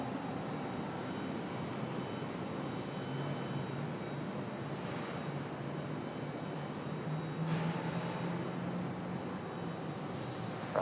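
An airliner takes off from runway 23 left at Raleigh-Durham International, a steady broad engine roar heard from a distance that holds level and swells slightly near the end, with no voices.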